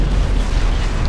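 Explosion in the World War II shooter Sniper Elite V2, a dense, loud, sustained boom of broadband rumble lasting about a second with no voices over it.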